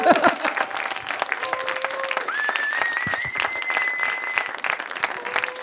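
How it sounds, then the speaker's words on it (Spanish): An audience claps and cheers in sustained applause, with a thin whistled or sung tone drifting above the crowd noise. "da un aplauso"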